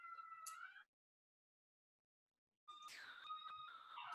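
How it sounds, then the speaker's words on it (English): Emergency sirens wail faintly in the distance, wavering tones that cut out for a couple of seconds and then return. "Sorry for the sirens in the background."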